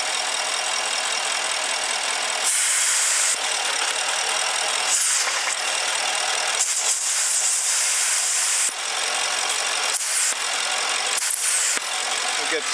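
Porsche Cayenne 4.8 engine with a misfire, loud steady hiss of air being sucked through excess crankcase vacuum, broadband and continuous with slight surges, close up under the running engine.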